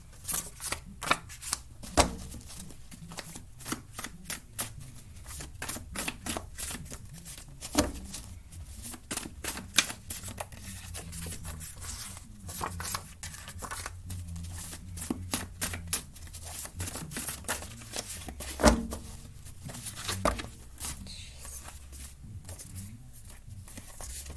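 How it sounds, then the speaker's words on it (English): Cards are shuffled over and over, making quick papery riffles and soft slaps in irregular bursts, close to the listener. "Give it a shuffle"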